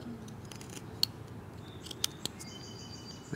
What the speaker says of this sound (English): just notice I'm using a scooping cut